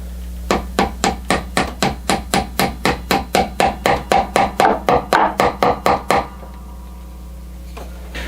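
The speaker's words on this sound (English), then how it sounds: "We'll just hammer this in tight." A steady series of about twenty sharp hammer blows drives a glued wooden patch into a guitar body in an even rhythm, close and loud, then stops, leaving a quiet room.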